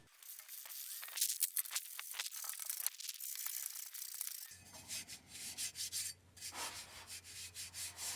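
Scraping and rubbing on the front exhaust pipe of a Skoda Fabia 1.9 PD TDI Mk1, first a sharp rasping scratch, then a steadier rhythmic back-and-forth sanding with a low hum underneath, close up and without talk.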